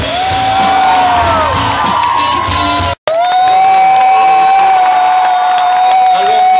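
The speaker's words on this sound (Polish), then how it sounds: "Ja myślę, że brawa się należą." Crowd at the IV parish festival in Wola Mielecka cheering, whooping and shouting loudly and continuously, with scattered applause, broken by one very brief dropout midway.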